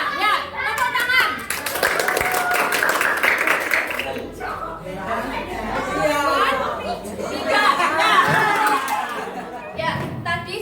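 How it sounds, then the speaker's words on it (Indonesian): Classroom clapping by a group of students at a school counseling activity, bursts of hands heard under loud children's chatter and talking throughout. "Ya, tepuk tangan."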